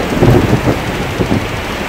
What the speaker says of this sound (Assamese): ঘৰলৈ অহাৰ পথতেই ধাৰাসাৰ বৰষুণ আৰু মাজে মাজে বিজুলীৰ চমক।